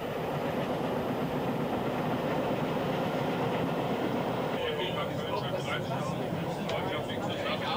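Rheingold special train in Switzerland runs on rails, a continuous loud rolling rumble with faint clickety-clack that continues steadily throughout.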